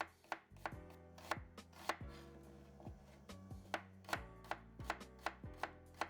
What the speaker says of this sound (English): we are going to thin slice the onion